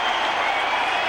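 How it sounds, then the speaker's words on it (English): A large football stadium crowd at Clemson cheers and applauds during a 1995 pro game between the Indianapolis Colts and Carolina Panthers, a steady, loud, wide roar of clapping and voices filling the whole moment. "Panther crowd coming to life here at Clemson"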